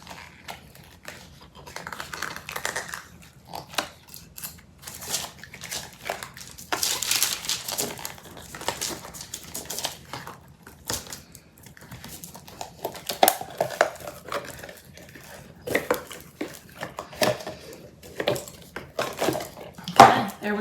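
A cured resin piece is worked free of its mold in close, irregular crackles, crinkles and sharp clicks, with quiet gaps between bursts of handling.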